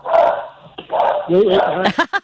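A dog barks in a few loud, close bursts, ending in quick sharp yips, and is heard indoors during a talk-show call.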